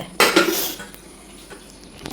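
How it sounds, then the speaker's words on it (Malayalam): Dishes, pots and utensils being washed in a home kitchen: a loud burst of clattering metal and clinking cutlery near the start, fading into quieter rinsing and occasional knocks. "ഞാനാണെങ്കിൽ ഇപ്പം എടുത്ത പാത്രങ്ങളൊക്കെ കഴുകിക്കൊണ്ടിരിക്കുന്നതാണ് ഈ കാണുന്നത്"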